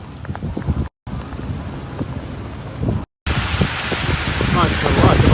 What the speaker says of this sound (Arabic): شوفوا البرد، شوفوا البرد ما شاء الله.